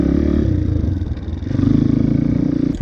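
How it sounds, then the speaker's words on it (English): A dirt bike engine revving as the rider pulls the clutch and shifts up from second to third gear, loud and close, with a brief dip in engine note mid-clip before the revs climb again. "pulling in the clutch, and then shifting up, and then letting out the clutch, and then getting back on the throttle"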